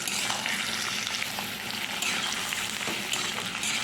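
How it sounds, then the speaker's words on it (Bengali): Potato and pointed gourd fry in a pan, a loud, steady, close crackling sizzle running throughout with light stirring. "আলু পটলটা একটু ভালো করে ভেজে নিই"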